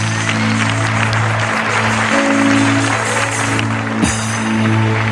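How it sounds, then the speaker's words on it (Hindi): Audience applause on a studio talk show, a steady broad patter of clapping under a loud, constant electrical hum, with no clear talk. "आपकी तालियां होनी चाहिए"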